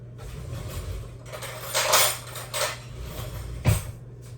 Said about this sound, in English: I'm gonna open this sauerkraut and see if I like it.